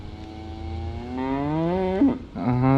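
A cow moos loudly and close by in a long drawn-out bellow that rises in pitch, followed by a shorter second call, heard near a deep river pool during trout fishing.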